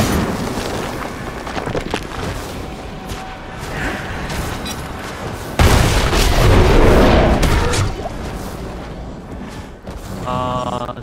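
Bomb explosion in the Diablo IV video game: a heavy, booming blast hits midway over continuous rumbling game noise and combat effects, followed by sustained roaring before fading into chiming sounds.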